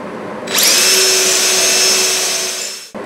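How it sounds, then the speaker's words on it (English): A power drill fitted with a flag stop bores a hole in wood for a butterfly-leaf dining table, spinning up sharply into one loud, steady whine that runs close for over two seconds before cutting off. "I've got a flag stop on my drill, and I just need to drill that hole."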